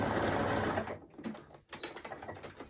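A sewing machine stitching a sleeve seam on a striped T-shirt or sweatshirt runs steadily, then stops and restarts in short bursts, with a faint mechanical whir close by and no talking.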